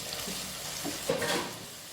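Onion frying in a pan with grated ginger and garlic, browning toward golden for chicken gravy, a close, continuous sizzle with soft stirring scrapes.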